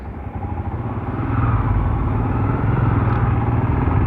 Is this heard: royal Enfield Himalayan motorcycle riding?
yes